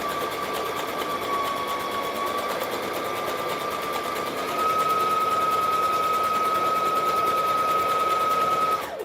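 Sewing machine stitching a collar band straight over pins, running steadily and close for about nine seconds with a whirring motor hum that picks up speed partway through before stopping abruptly.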